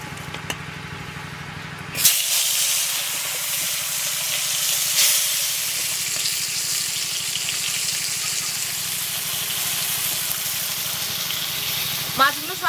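Koi fish caught from a small pond fry in hot oil in a wok, a loud, steady sizzle and hiss that starts suddenly and continues close by for the rest of the clip.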